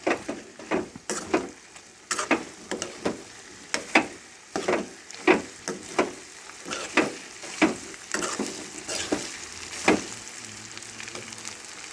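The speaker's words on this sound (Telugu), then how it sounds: "అది దగ్గరగా ఉడుకుతూ ఉంది ముక్కలు ఎగుతూ ఉన్నాయన్నమాట" Pieces of elephant foot yam fry in oil in a pan with a steady close sizzle, broken by repeated sharp crackles and pops as they are stirred and turned.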